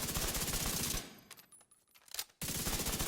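Rapid automatic gunfire from The Division 2 on console, a dense continuous burst that stops abruptly for about a second of quieter shots and echoes, then resumes at full loudness.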